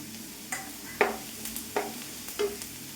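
Green chilies and chopped curry leaves sizzle softly in oil over popped mustard seeds. A spoon knocks and scrapes the pan several times, in sharp, separate taps above a quiet frying hiss.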